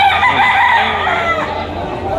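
A yellow-legged Dome gamefowl rooster crows once, loud and close, a long harmonic call that fills the whole moment, with other fowl clucking faintly beneath it.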